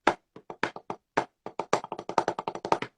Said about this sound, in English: there's the paradiddle diddle.